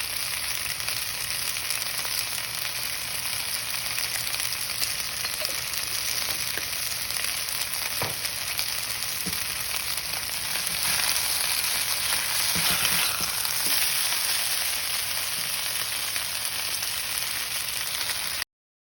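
Chicken with cashews frying in a pan makes a constant bright, crackling sizzle, fairly loud and even throughout, with faint occasional clicks of stirring and no talking.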